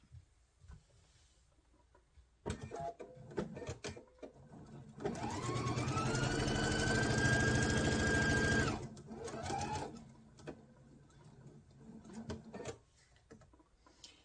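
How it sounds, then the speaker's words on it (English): A sewing machine stitches a quilt block seam for a disappearing nine patch, running in short bursts and then one steady sustained run of several seconds, close and clear with no talk. "And I sew right until I'm almost up to the pin without hitting the pin."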